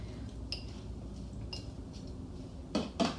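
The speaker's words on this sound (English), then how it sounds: "while I stir this up." A spoon stirs a Cuban-style salad with olives in a bowl, making a few faint, scattered clinks against the dish, with louder knocks near the end.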